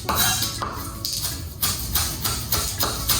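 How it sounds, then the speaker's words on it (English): A knife chops green onions on a cutting board, giving a run of sharp, close knocks about twice a second, each with a bright clack, over a low kitchen murmur. "I'm going to just chop up some green onions for some garnish"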